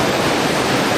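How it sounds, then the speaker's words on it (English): Water running across rock slabs on a high mountain ridge of the Wetterhorn, a loud continuous rushing wash that holds steady throughout. "Across the slabs where the ladder was,"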